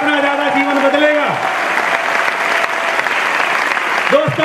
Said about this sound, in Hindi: तालियां बजाने से डरो मत, जितनी तालियां बजेंगी उतना ज्यादा जीवन बदलेगा।